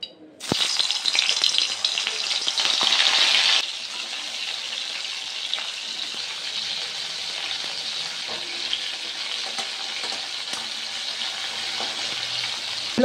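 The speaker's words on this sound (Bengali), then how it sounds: "কাঁকড়াগুলো ভেজে নেব" Sundarban crabs fry in hot oil with a bright, close sizzling hiss that is loudest in the first few seconds, then settles into a softer steady crackle.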